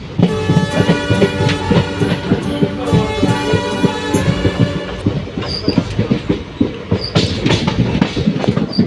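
A train rolls loudly along the rails arriving at Sihor, Gujarat, with a rhythmic clickety-clack, high metallic wheel squeals ringing over the steady rumble.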